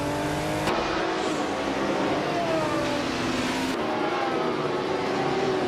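A classic 1977 Porsche 936 race car in a racing game roars off at the race start at Aintree Vintage. Its engine revs loud and close, pitch climbing and shifting across several gear-like sweeps, with other car engine noise underneath.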